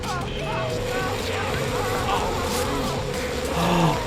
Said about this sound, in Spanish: es que hay abejas.